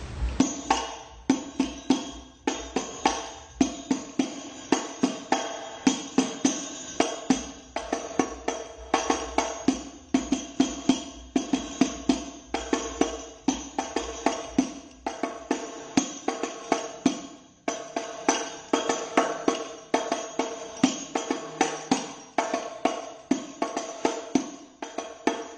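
Hadroh frame drums play the penikah beat pattern, a busy interlocking rhythm of sharp, bright strikes with a low thump underneath, continuing steadily and close-miked throughout.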